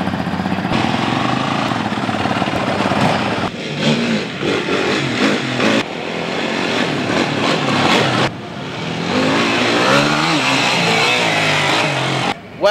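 A Yamaha 450 off-road motorcycle on a test track revs hard and close, its engine note rising and falling with throttle blips and short dips between pulls.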